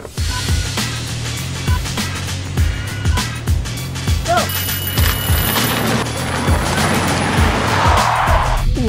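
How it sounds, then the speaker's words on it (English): Heavy, fully loaded Nissan Leaf Plus SL electric car launching off the line at a race-track start, with tires briefly spinning and squealing over steady road and wind noise, continuous and fairly loud. "I spun my tires a little bit and he got away"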